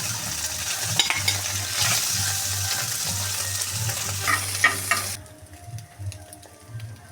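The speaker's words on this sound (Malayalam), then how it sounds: "ഇനി നമ്മൾ ഈ മുട്ട ചെറുതായിട്ട് ഫ്രൈ ചെയ്തെടുക്കുകയാണ്" Chopped boiled eggs frying in hot ghee for an egg biryani make a loud, steady hiss that cuts off sharply partway through, leaving a few soft stirring knocks and a faint sizzle.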